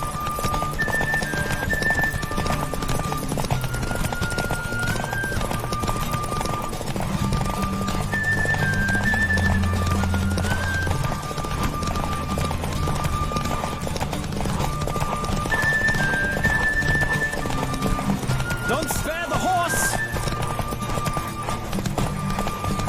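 Horses gallop in a race in The Witcher 3, steady clip-clop hoofbeats running throughout with an occasional whinny, set over continuous in-game background music and ambience.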